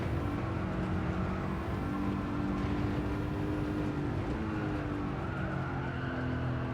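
In a racing video game, a car oversteers and skids, with a sustained, loud tire squeal layered over the steady drone of the engine for several seconds.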